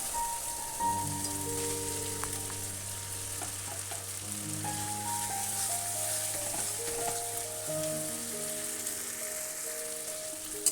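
Potatoes frying in oil with spices, a steady close sizzle running throughout the clip with light stirring, no talking.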